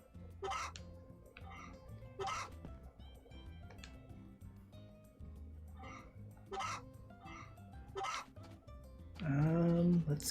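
Chickens cluck on a farm in the Story of Seasons: A Wonderful Life video game, short soft clucks recurring every second or two over quiet game background, with a louder drawn-out call at the end.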